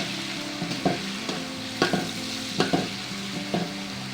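Green chillies and curry leaves fry in hot oil with a steady close sizzle, broken by several crisp scraping knocks from a spoon stirring the pan at irregular intervals, with no voices.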